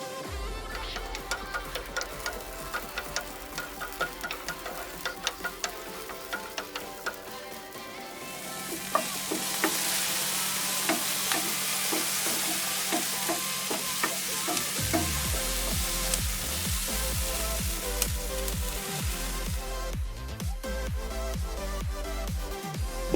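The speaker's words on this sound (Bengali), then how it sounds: "এক চা চামচ সরিষার তেল দিয়ে বেগুনগুলোকে ভেজে নেব।" Small eggplants fry in mustard oil in a pan, a close crackling sizzle with frequent sharp pops that grows denser and louder partway through, while a low steady hum runs underneath for several seconds.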